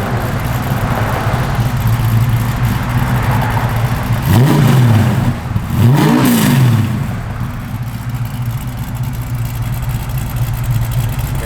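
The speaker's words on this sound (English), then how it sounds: "Great sound. Got a nice exhaust system on it." A 1969 Chevrolet Camaro with an aftermarket exhaust idles with a loping, burbling rumble, then is blipped twice in quick succession, each rev swelling loud and close before dropping back to idle.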